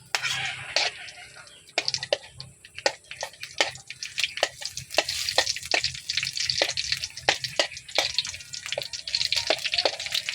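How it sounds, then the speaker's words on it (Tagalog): Garlic fries in a pan with soft crackling sizzle and frequent sharp pops and spatters, close up and fairly quiet. "Ipa-brown natin bawang"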